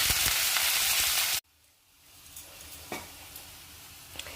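Onion, capsicum, curry leaves and green chillies going into a hot pan, a loud burst of sizzling that cuts off abruptly, followed by a quieter, softer fry with a few light stirring taps.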